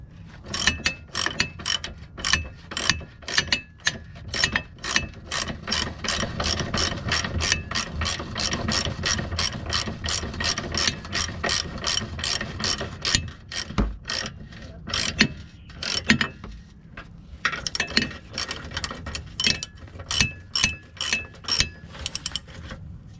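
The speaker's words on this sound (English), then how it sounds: "add 22mm socket and ratchet to tie these 4 bolts which hold the pin" A ratchet with a 22mm socket tightens the four bolts holding the control arm pin on a 2002 Infiniti I35, giving long runs of rapid, close clicking with brief pauses.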